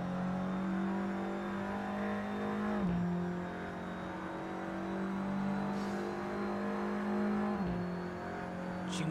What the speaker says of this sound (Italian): l'ultimo giro di Felice Gelmini, mettiamo l'onboard sul volume del motore.